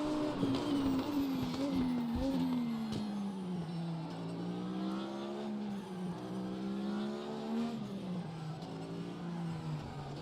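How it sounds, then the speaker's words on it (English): A 1995 DTM race car in the RaceRoom racing game screams and climbs through the gears, the pitch dropping and rising again at each upshift, with steady loud revving throughout. "look at the upshifts, the exhaust at the rear, and the sound"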